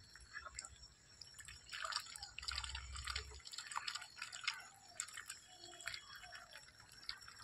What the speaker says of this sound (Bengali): এই যে হাঁসগুলো জল খাচ্ছে, মুখ ডুবে ডুবে জল খাচ্ছে।